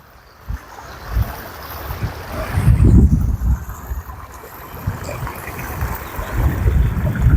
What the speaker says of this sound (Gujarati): આપ વચમાં ગોલ પથ્થર છે અને ચારે બાજુ પાણી વહી રહ્યું છે